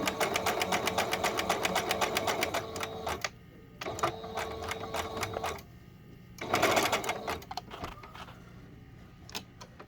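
A sewing machine stitches fabric around a corner in close, rapid bursts of needle chatter, pausing between runs and restarting.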